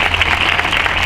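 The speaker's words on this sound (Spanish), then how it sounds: "quiero pedir un aplauso muy fuerte para nuestro presentador, Manuel Pérez" Audience applause at a concert by a municipal music band, a short, loud, dense burst of many hands clapping with no pauses.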